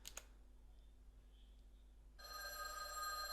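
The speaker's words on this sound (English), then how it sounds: "The phone rang" A telephone in a lone phone booth in a deserted park at night starts ringing abruptly partway through, a bright sustained electronic ring rising out of a faint, quiet background.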